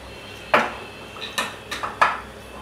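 A heavy-bottomed pan is set down and handled with several sharp metallic clanks and knocks spaced over a couple of seconds, close and fairly loud, with no voices.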